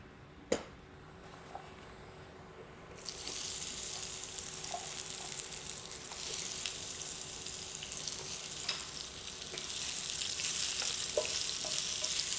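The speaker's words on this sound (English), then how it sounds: "So we will add the zucchini to our pan along with a little bit of olive oil." Zucchini sautéing in olive oil in a pan: a steady broadband sizzle swells in after a few quiet seconds, with a sharp clink near the start and scattered small pops and taps from stirring, close and fairly loud.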